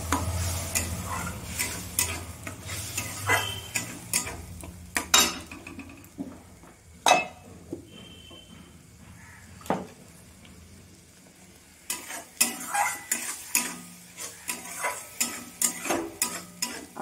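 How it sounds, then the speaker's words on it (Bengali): Ginger-garlic paste being stirred in a frying pan while cooking a Bengali jackfruit and prawn dish: steady sizzling under repeated scrapes and sharp clinks of a spoon against the pan, close up, with no voices. "আদা রসুনটাও আমি অল্প একটু নেড়ে চেড়ে নেব।"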